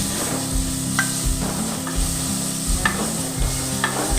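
Tomatoes sizzle in a pan for a fish curry while a utensil stirs them with regular scraping strokes over the constant frying hiss.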